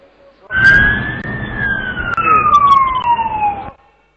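A siren outside during a talk: one loud, close wail rises, then slowly falls in pitch over about three seconds and cuts off abruptly, with no talking over it.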